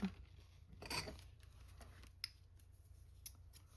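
Scissors snipping through wax paper at a craft table: one short, crisp cutting burst near the start, followed by a few faint clicks and rustles in a quiet room.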